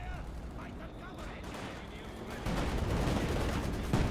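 Dense machine gun fire from an MG42 and a Maxim in the Company of Heroes 2 battle game, heard as a continuous rattle of overlapping bursts that grows louder midway through, with a voice faintly underneath.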